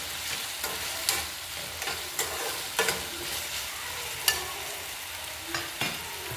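Ivy gourd being stirred as it fries in a pan, broadband sizzling with a string of scraping stir strokes at an irregular pace, close and moderately loud, with no talking.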